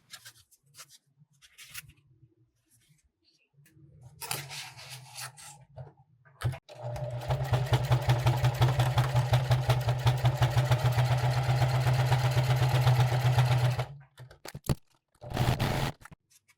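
Sewing machine stitching half-inch seams along the sides of a range bag, a steady close mechanical hum running several seconds after quieter handling scrapes, then a short final burst.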